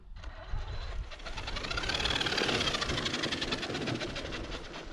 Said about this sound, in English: MAXX and a poorly set gear mesh, as you can hear, a little bit tight.